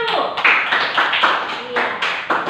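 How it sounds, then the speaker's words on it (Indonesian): A class of students claps in a few quick, uneven bursts of rhythmic hand claps, close and fairly loud, with voices mixed in. "Kita tepuk tangan dulu."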